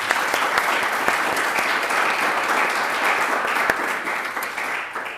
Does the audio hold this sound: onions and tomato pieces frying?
no